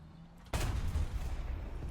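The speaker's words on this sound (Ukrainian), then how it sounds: "Зараз ще зенітку бахну." A sudden heavy burst of anti-aircraft gunfire from a tank in War Thunder after a quiet moment, booming and rumbling on as a loud, sustained barrage.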